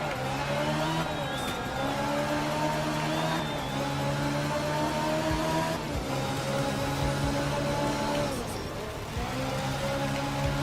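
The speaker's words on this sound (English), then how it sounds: "Another really good drift." Car drifting with a steady, sustained engine roar and revving throughout, tire noise layered in, close and loud, with brief voices over it.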